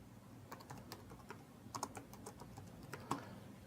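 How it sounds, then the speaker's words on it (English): Someone types unevenly on a computer keyboard, producing soft, close keystrokes in irregular bursts and pauses over a faint room hum, with no talking. "And my typing stinks, by the way"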